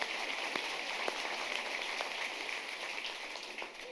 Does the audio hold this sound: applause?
yes